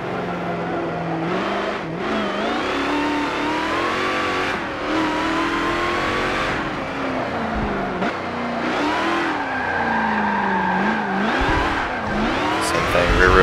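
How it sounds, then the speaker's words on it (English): A rear-wheel-drive car in Forza Motorsport 7 spins its wheels and squeals its tires, the engine note rising and falling in loud, continuous revving sweeps. "my car really likes spinning the wheels"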